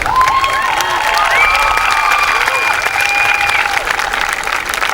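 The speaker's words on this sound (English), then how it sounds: "Yeah, you can applaud." Applause from a graduation ceremony audience, steady and fairly loud throughout, mixed with crowd cheering and whistle-like tones.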